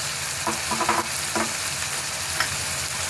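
Chillies and spices fry in hot oil with a loud, continuous sizzle and crackle close by, plus a few brief scraping stirs, and no voices.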